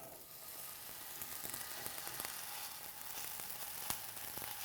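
Steady crackling sizzle of a Cuban sandwich's bread frying in a preheated hot pan, with scattered sharp pops rising above the continuous hiss.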